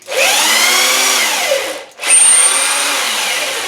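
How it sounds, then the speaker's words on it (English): A cheap handheld power drill cranks the table of a square column drill press, whining loudly and steadily in two bursts separated by a short pause. "You probably noticed I got a cheap little drill back there"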